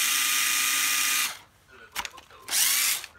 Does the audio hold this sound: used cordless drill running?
yes